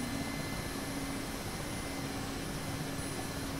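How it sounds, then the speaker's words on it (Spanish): Mi-8 helicopter engines run in a DCS flight simulator, a steady, loud, uniform turbine roar with a constant whine, no voices over it. "Y básicamente ya tenemos el helicóptero en marcha."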